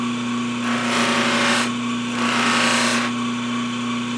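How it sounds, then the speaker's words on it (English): A workshop buffing wheel running with a steady motor hum and whine, swelling into two louder whooshing bursts as work is pressed against the wheel, with no talk over it. "the newest addition to my shop here, my buffing wheel"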